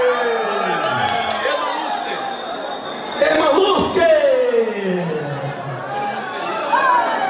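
A lively crowd at a forró show in Colatina cheers, whoops and shouts continuously, mixed with chatter and an amplified voice, loud and close with rising bursts of excitement.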